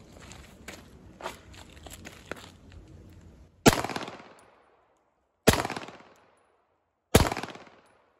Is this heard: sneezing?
no